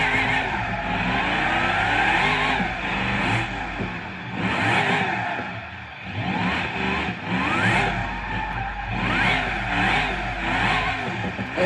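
A car drifting in a racing video game, with a loud, steady, revving engine that rises and falls through gear changes and tire squeals, continuous throughout, with no talking.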